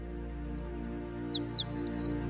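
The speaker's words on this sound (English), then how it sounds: "The sparrow chirped." A small sparrow gives a quick series of bright, high chirps and short tweets, close and clear over a soft, steady musical background.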